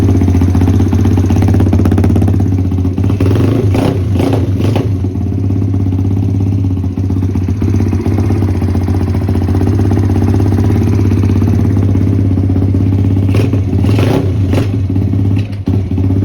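An SSR YX140 pit bike engine runs steadily and loudly, a little boggy, with a deep droning idle broken by a few sharp revs near the start and again near the end.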